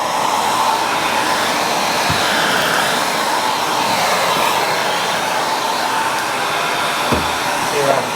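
A lightweight upright vacuum cleaner with its floor tool runs close by in a steady, loud whooshing drone that holds through the whole stretch. Faint bumps come from the tool moving about.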